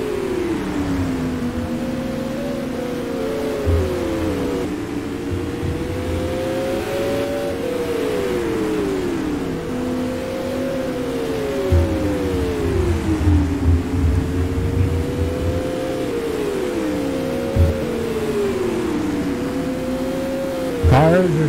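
Supermodified race cars lap Oswego Speedway late in the Jim Shampine Memorial on worn tires, their engines rising and falling in pitch as packs sweep by again and again, with a muffled voice faintly underneath.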